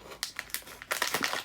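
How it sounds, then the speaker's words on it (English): Quick crinkly snips and rustles of plastic packaging on a blind-box figure being cut with scissors, a burst of short crisp cuts, close and fairly quiet. "Let's use my fancy scissors to cut it."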